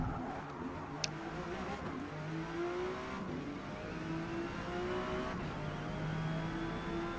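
A Porsche 911 GT1 race car in the Forza Motorsport game at Spa, its engine droning and whining steadily as it revs through gear changes, fairly quiet and continuous, with no speech.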